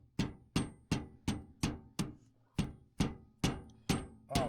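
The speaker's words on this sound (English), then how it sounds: "You might need to give it a tap with that hammer, Dennis." A hammer taps a washer down onto a snowmobile shaft, eleven sharp metallic strikes in a steady rhythm about every 0.4 seconds, close and clear with quick decays between blows.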